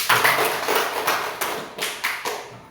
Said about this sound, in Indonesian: Tepuk tangan untuk dan dia dulu.